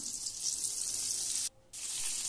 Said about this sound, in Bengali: তেলটা দেখুন গরম হয়ে গিয়েছে, নেড়ে চেড়ে নিয়ে এবারে নুন ও হলুদ দিয়ে ম্যারিনেট করে রাখা বেগুনগুলো ছেড়ে দিলাম।